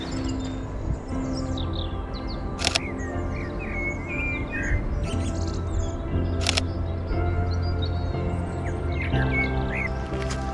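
Bright bird chirps and warbling song ring out over a steady outdoor background hum, with a couple of sharp clicks along the way.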